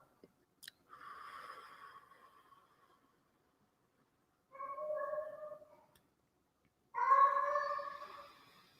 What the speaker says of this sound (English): Feel free to send some love to my cat from your heart. He's saying hello.